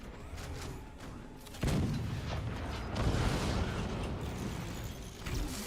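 Artillery fire in the strategy game Forts: irregular cannon shots and mechanical clanks, with a heavy blast around the middle and steady booming after it, all fairly quiet.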